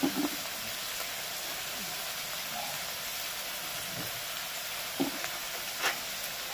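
Turmeric, cumin and coriander powders fry in a pan of oil for an egg masala curry, a steady hiss with occasional soft scrapes and clinks of stirring, heard alone.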